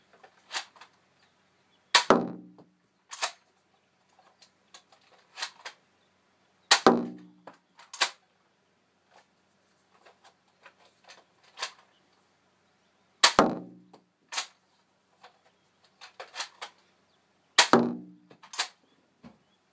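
Nerf Zombie Strike Ricochet toy blaster being loaded and fired, heard as a series of sharp plastic snaps and clacks spaced several seconds apart, each followed by smaller clicks of handling, with quiet gaps between.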